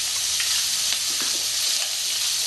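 Crab pieces frying in a pan as cumin paste with a little coriander and black pepper goes in, giving a loud, steady, close sizzle with faint stirring scrapes throughout, no voices.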